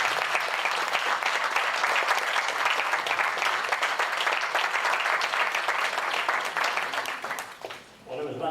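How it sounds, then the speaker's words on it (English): Dense, sustained audience applause fills a convention hall, steady and loud for several seconds before briefly thinning near the end and swelling again. "let's give him a really standing round of applause"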